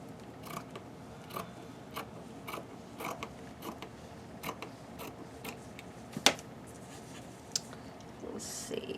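Scissors cutting fabric for a baby girl's onesie dress, heard as a quiet, close series of regular crisp snips and blade clicks at roughly half-second intervals, with one sharper click near the end.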